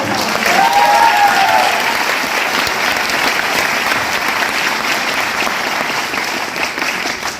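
Loud, sustained applause from a large seminar audience, a dense steady wash of clapping filling the whole stretch with a few faint voices and cheers mixed in, easing off slightly toward the end.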